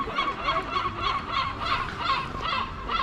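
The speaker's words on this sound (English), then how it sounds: "If the seagulls would be a bit quieter, that would help." Seagulls call repeatedly around the old town of Nessebar on the Bulgarian coast, a constant chorus of raucous honking cries close by, overlapping in irregular bursts with no talk.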